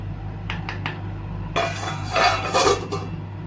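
A metal lid clatters onto a cooking pot of simmering raw mango and anchovy fish curry, a few short clinks followed by a louder rattling scrape as it settles, close by with a steady low hum underneath.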